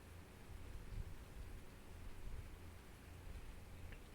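Steady rain falls on the Ricci Islands farming map, a soft, constant wash of hiss and patter with a faint low rumble beneath, quiet and unbroken, no voices.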